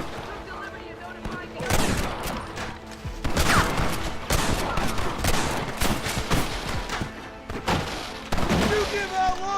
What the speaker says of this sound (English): Marston, use that Gatling gun.